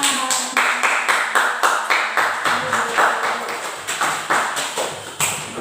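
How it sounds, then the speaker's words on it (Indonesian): A small classroom group claps in a quick, even rhythm for several seconds after a student storytelling performance, each clap sharp and close with no voices. "Tepuk tangan."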